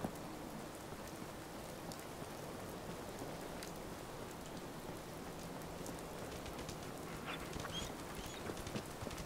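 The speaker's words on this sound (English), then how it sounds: "it is hella raining" Heavy rain in Fallout 4, modded, pours steadily as a dense, even hiss of drops on surfaces, continuous and moderately quiet with no voices.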